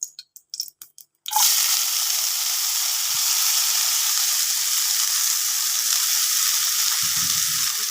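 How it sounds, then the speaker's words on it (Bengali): Dried red chillies drop into hot oil with a sudden loud burst of sizzling, after a few short knocks, then a steady close frying hiss continues unbroken to the end. "একটু ভাজা হয়ে গেলে শুকনো লঙ্কা এর ভিতরে এবার ঢেলে দেবো।"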